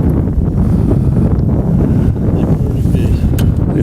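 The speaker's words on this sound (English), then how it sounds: "It is windy." Strong wind buffets the microphone on a fishing boat out on open water while fishing for stripers, a loud continuous rumble of gusts throughout.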